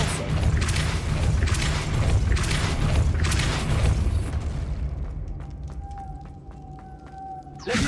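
A spinning stone mechanism driven by a Depulso spell rumbles loudly in the Hogwarts Legacy video game, a heavy continuous grinding churn with thudding bursts that fades to a quieter hum and faint ringing chimes before a final thump.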